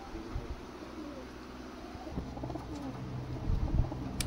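Low, soft cooing of Teddy and Kamagar pigeons nearby, repeated murmuring calls over faint background noise, growing a little louder toward the end.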